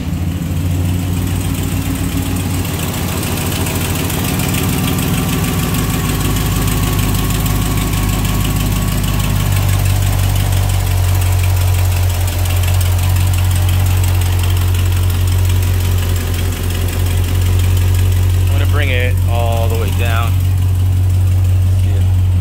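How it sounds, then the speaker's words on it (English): Restomodded 1941 Plymouth Deluxe woodie wagon with a 426 HEMI engine idling after a cold start, a loud, deep, lumpy rumble that settles lower partway through, with a brief voice near the end. "Cold start."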